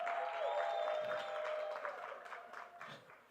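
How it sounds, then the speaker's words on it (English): Faint, diffuse audience applause at a live interactive session, gradually fading out over a few seconds with a tonal hum underneath. "Can we give him a round of applause again?"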